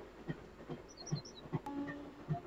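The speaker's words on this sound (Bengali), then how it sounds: "আমাদের ট্রেন এখন জয়চণ্ডী পাহাড় স্টেশন ছেড়ে বেরিয়ে যাচ্ছে।" A MEMU express train on the Kharagpur to Asansol line pulls away from Joychandi Pahar station, its wheels giving soft, regularly spaced thumps at a distance, with a few bird chirps above the quiet hum.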